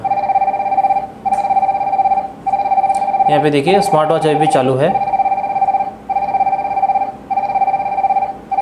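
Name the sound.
mobile phone and smartwatch ringing with incoming call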